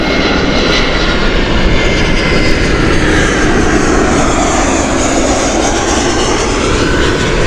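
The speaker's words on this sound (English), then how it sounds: "Lufthansa flight here, heading in from Frankfurt." A Lufthansa airliner arriving at Gatwick from Frankfurt roars loud and close, its engine noise a dense, unbroken rumble across the whole stretch.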